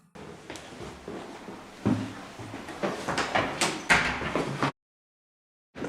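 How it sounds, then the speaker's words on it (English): A door in a reputedly haunted building slams shut on its own: a sharp, close bang stands out among softer knocks and rustling, then the sound cuts to silence. "as I go to reach out to open the door, it slams shut by itself"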